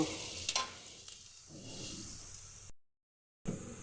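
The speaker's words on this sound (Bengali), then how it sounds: "পেঁয়াজগুলোকে একটু ভেজে নেব" Chopped onions fry in hot oil in a kadai, making a continuous close sizzle with some stirring scrapes before a brief silent break.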